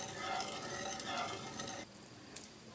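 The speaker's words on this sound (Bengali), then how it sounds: "এই পর্যায়ে আমি দুধটা একটু নেড়ে চেড়ে দেবো।" Milk sweetened with two spoons of sugar is stirred in a pot, giving a soft, steady scraping swirl for a couple of seconds before it drops to a quieter hiss with a faint clink.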